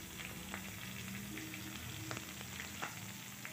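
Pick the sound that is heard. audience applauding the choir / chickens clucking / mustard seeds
mustard seeds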